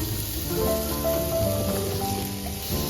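Steady crackling sizzle of apples frying in butter in a pan, continuous and fairly loud, with no voices.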